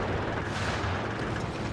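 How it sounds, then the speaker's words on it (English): Dense, continuous rumble of distant artillery and gunfire in the war game Battlefield: Bad Company, a steady loud roar with blurred booms and no talk. "I hope those are our guns. It's a beautiful sound either way."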